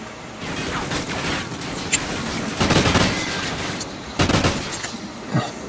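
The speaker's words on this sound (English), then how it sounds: "They're just shooting." Rapid bursts of gunfire from a 1v1 video game match, dense automatic volleys in several clusters with brief gaps between them, loud and close, with no speech.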